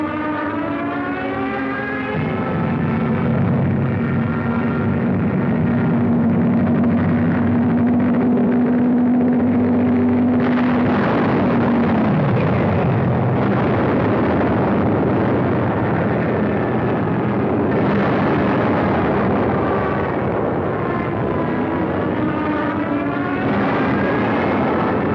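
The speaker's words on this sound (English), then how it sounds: "From the skies, a bombardment to which we had no adequate answer." Wartime aircraft drone overhead during an aerial bombardment of a city, a loud, sustained roar with rising and falling siren-like whines and rumbling bursts layered over one another for the whole stretch.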